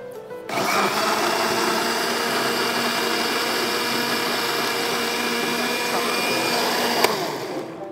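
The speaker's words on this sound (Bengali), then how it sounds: "এখন এটাকে আমি ব্লেন্ড করে নেব।" An electric blender whirs steadily as it blends mango juice. It kicks in loudly after a brief quiet moment and holds an even, high, continuous drone to the end.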